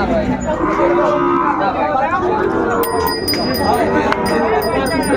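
A Sahiwal bull calf moos at a busy cattle market, a drawn-out low call followed by ringing bells and a crowd chattering nearby.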